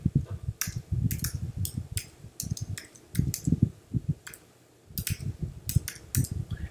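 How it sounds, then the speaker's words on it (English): Rapid, crisp clicks of a computer mouse, close and dry, coming in quick irregular bursts with brief pauses between. "let me come over here and click in the middle here"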